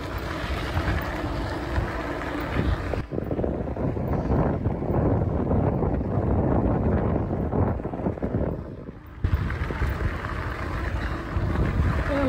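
Steady broadband wind rushing over the microphone while riding a fat tire e-bike into a slight headwind, loud and continuous, briefly dipping then returning.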